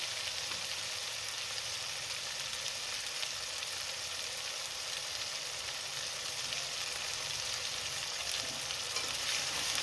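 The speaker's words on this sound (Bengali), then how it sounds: "এবার মশলাটাকে একটু ভালো করে কষিয়ে নেব।" A spice mix of turmeric and salt frying in a pan for Bengali cabbage ghonto, giving a steady, even sizzle that stays soft and continuous throughout, with no voices.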